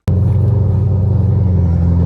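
A BMW M3 engine fires up with a sudden onset and settles into a loud, deep, steady rumbling idle close by, with no voices.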